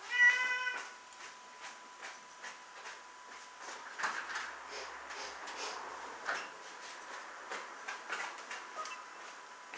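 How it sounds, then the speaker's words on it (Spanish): A house cat meows repeatedly, asking to be let outside, its cries close and clear at first, then fading into light shuffling, ticking and soft indoor noises with no talking. "voy a abrir al gato que me está pidiendo salir."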